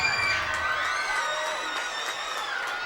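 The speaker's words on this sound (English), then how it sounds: "Crowd again gets loud here at Bethpage Ballpark" Baseball crowd at Bethpage Ballpark on Long Island cheering and whooping loudly and steadily through the clip, with high shouts and voices layered over a sustained roar as the final out approaches.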